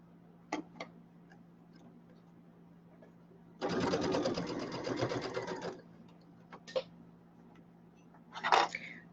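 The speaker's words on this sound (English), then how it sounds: "I'm doing my 1/4 inch seam, trying to keep my seams flat if I can." A sewing machine stitches a quarter-inch seam on a pillow, running in one steady burst of about two seconds amid quiet room tone, with a few faint clicks and handling noises before and after.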